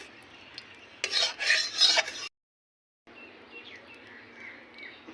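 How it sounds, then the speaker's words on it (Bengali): A spatula stirs hot mustard oil in a kadai, giving bursts of scraping and clinking at close range between quieter kitchen stretches, with a brief silent gap. "তেলটা খুন্তি দিয়ে নেড়ে নিচ্ছি।"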